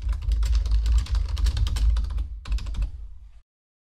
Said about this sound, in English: I would move on to my narrative and type in my notes about the call